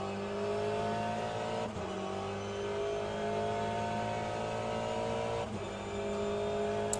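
A front-engined, rear-wheel-drive race car in the Le Mans Ultimate racing game holds a steady high engine drone that rises through the gears, with two brief dips at shifts.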